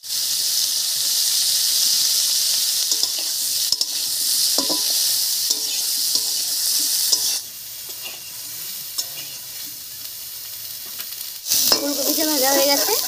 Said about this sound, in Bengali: সামান্য একটু হলুদ দিয়েই ভেজে নিচ্ছি